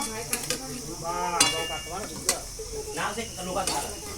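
Food sizzles in a pan during home cooking, a steady close frying hiss broken by irregular scrapes and clicks of a utensil stirring against the pan, with faint voices in the background.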